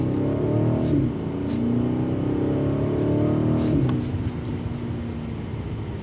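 A 2024 BMW 760i launches hard from a complete stop with boost engaged, a loud, sustained engine roar heard from inside the cabin that rises in pitch through the first seconds, then settles into a steady drone.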